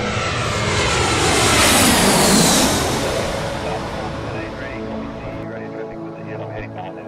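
A fixed-wing airplane's engines roar loud and close as it accelerates down the runway on takeoff, swelling to a peak and then easing into a steady fading drone as it climbs away.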